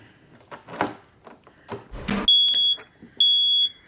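Two sharp, loud smoke alarm chirps ring out in the second half, following scattered knocks and clatter.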